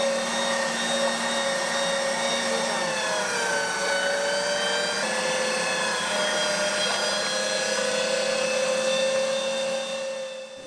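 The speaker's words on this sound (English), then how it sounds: "So you'll see me use the meat grinder machine here." An electric meat grinder machine runs continuously while processing bulgur and onion for Syrian kibbeh, a loud steady motor whine with slowly shifting pitch as the load changes, close and uninterrupted by talk.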